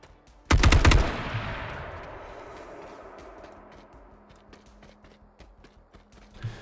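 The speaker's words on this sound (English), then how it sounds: "I did shoot 3 bullets" A quick burst of about three loud gunshots rings out in the H1Z1 video game, followed by a long decaying echo and faint in-game footsteps and ambience, with a couple of small clicks near the end.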